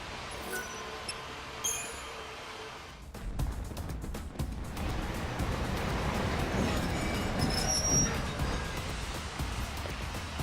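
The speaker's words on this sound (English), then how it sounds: "The Yusnaan train is now arriving." A train pulls into Yusnaan station in Final Fantasy XIII Lightning Returns: faint ambience and small chimes give way to a rising, rumbling rail roll with rattling carriages, moderately distant and growing steadily louder.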